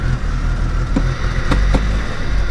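A Norton Commando motorcycle engine running steadily up close, with a couple of sharp clunks as it is shifted into gear.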